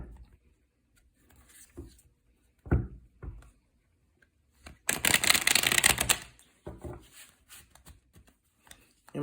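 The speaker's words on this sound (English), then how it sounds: "I'm going to give it 2 more shuffles" Tarot cards being shuffled quietly by hand indoors: soft scattered taps, then a dense riffling burst in the middle and a few lighter shuffles after it.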